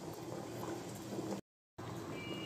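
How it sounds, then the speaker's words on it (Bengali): Two potatoes boiling in a pot of water, a steady soft bubbling and gurgling up close, interrupted by a short silent gap. "আমি এখানে দুটো আলু সিদ্ধ দিয়েছি।"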